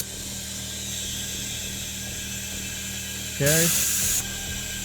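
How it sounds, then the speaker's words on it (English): A compressor pumps transmission fluid into a 2024 VW GTI during a transmission install, making repetitive mechanical clicking and whirring up close. A short spoken word cuts in near the end. "it's time to try to use this compressor to pump the fluid in."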